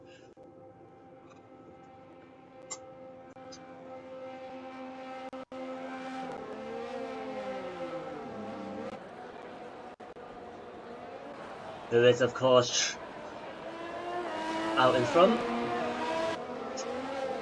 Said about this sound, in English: See a load of other cars now just following them out.